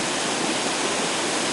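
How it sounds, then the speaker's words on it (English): A superb forest waterfall pours close by, seen from a viewing pavilion with spray blowing on a breeze, a loud, steady, dense roar of rushing water throughout. "you can admire this superb waterfall at close quarters from the viewing pavilion"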